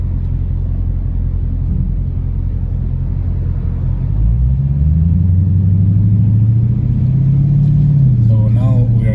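Dodge Challenger exhaust swelling from a low rumble into a loud, rising roar as the valve opens under hard throttle, steady and close, with people talking over it near the end.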